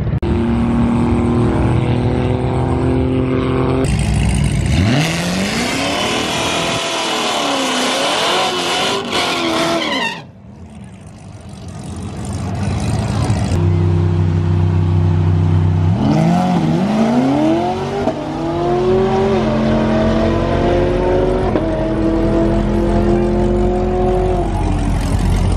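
An all-wheel drive GTI drag racing at the Flashlight Shootout: a loud engine roars and climbs through the revs, drops away briefly midway, then surges again with rising gear pulls.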